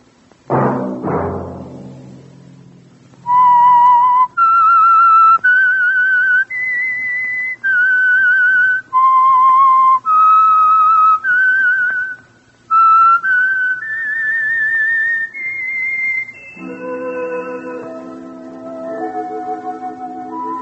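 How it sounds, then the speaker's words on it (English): A lone whistler carries the melodic theme of the radio program The Whistler, with clear sustained notes stepping up and down in phrases, followed by a softer, lower harmonized tone at the end. "Let that whistle be your signal for the Signal Oil program, The Whistler"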